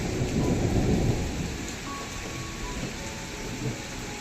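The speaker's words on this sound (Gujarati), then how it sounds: "જો અહીંયા વરસાદ ચાલુ થઈ ગયો છે." Heavy rain pours steadily in Dharamshala, Himachal Pradesh, while a deep roll of thunder rumbles near the start and fades into the continuous downpour.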